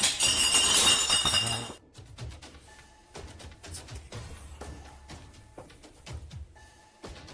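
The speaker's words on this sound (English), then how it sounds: "Terrifying clinking and clanking bursts through the darkness" Clinking and clanking of glass and metal ring out in the darkness of a reportedly haunted house, beginning with a loud crashing burst and followed by sparse, fainter clinks and knocks scattered through near-quiet.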